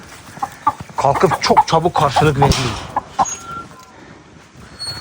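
A chicken clucks in short bursts close by while a person talks over it, then the clucking trails off into quieter background sounds.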